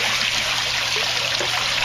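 Water pumped through a PVC pipe with an aerator bar in an aquaponics system pours and trickles steadily into a fish tank, a continuous close splashing rush.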